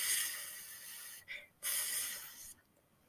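A voice imitates a steady whispering lawn sprinkler with a soft, continuous breathy hiss, broken by one short pause, then a second hiss before fading.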